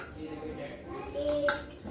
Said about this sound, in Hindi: अब इसमें दही है थोड़ा सा, उसको मैश कर रहे हैं।